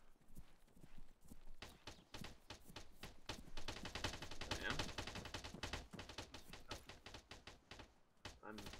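Rapid bursts of rifle fire from friendly soldiers in the military game Arma, dense crackling volleys at moderate distance, continuous and fairly faint throughout.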